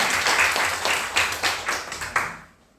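A church congregation at a Sunday worship service claps in welcome, a short burst of loud, close clapping with a few distinct accented claps that fades out within about three seconds.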